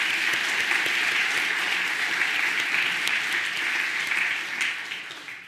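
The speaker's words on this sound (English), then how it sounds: "let's give a big round of applause" Community audience at a nature talk on forest history and restoration applauds, a steady, even patter of many hands that fades gradually over the last second.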